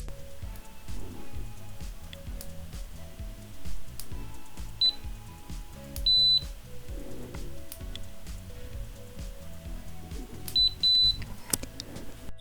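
Short, high electronic beeps from a Kaiweets KM601 multimeter in continuity mode, sounding in brief bursts several times over a low background hum with faint handling clicks.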